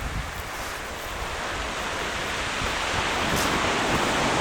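Steady, full surf washing onto the beach at Parsons Landing on Catalina Island, a continuous wash of waves that swells slightly louder toward the end, with no voices.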